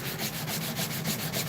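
Sandpaper rasps back and forth over wood in quick, even strokes, a close steady 150-grit sanding with no voices.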